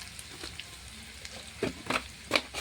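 Chopped banana flower is tipped into hot oil in a pan, giving a soft, close sizzle broken by a few spatula scrapes and taps, with no talking.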